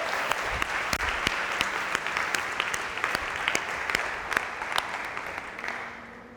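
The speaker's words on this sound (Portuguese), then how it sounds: "Vamos aplaudir o Senhor!" Church congregation at an Easter service clapping steadily, a dense loud wash of many hands with sharp individual claps standing out, fading slightly at the end.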